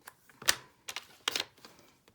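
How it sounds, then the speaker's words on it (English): A paper trimmer cuts a piece of cardstock with a few short, dry clicks and swishes spread over about two seconds, close and fairly quiet. "I'm just going to pop it in the trimmer to do."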